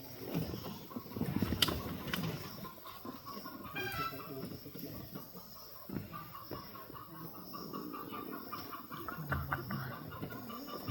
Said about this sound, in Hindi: मुर्गा बोल रहा है